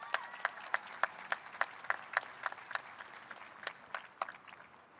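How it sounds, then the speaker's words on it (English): Clapping from a graduation ceremony audience as a speaker walks to the stage, a sparse, rhythmic run of distinct claps heard fairly faint and distant, tapering toward the end. "could we get a round of applause for Isabel on her way up?"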